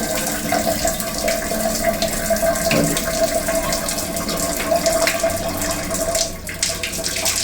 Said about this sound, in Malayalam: താഴത്തെ ടാപ്പ് ഒന്നും ഓൺ ചെയ്തോ.